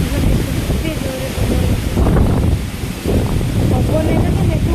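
Strong wind buffets the microphone outdoors in a steady, loud roar with gusty surges, and speech can be heard beneath the blustering throughout.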